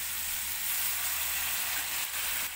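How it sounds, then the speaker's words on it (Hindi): Half-boiled carrots and peas fry in a pan with an even, broadband sizzle, steady and close, with a couple of faint stirring clicks and no voices. "अब मैं इसमें डाल दूँ गाजर और मटर तो मैंने हाफ बॉयल किया था, बाकी इसमें फ्राई करती हूँ"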